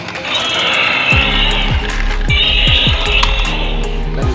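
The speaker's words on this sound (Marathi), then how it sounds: "पोलीस कार तशी मागे खेचायची." A pull-back toy police car rolls across a hard floor, giving a sustained whirring, rattling drone with a series of short thumps and clatters as it runs, fairly close and loud, with no talk over it.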